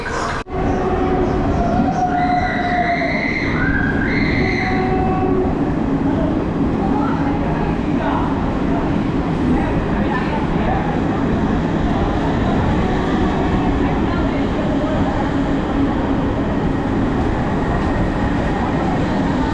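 A Patna-Kolkata Garib Rath express pulls into a station, loud and close, with a steady rumbling roar of wheels and carriages and a few tonal squeals at the start, continuing unbroken throughout.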